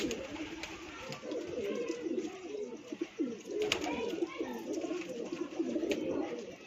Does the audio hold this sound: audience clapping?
no